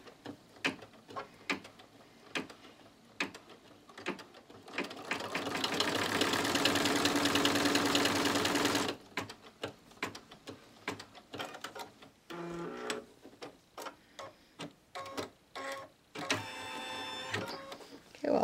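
Embroidery machine stitching fabric in the hoop for a mug rug, a steady rapid ticking stitch rhythm throughout, close and moderate, with a louder dense whirring stretch in the middle and some beeps near the end.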